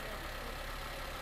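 Engine of a 2012 Toyota Avanza G automatic idling, a smooth, steady low hum heard close up and alone for a brief moment.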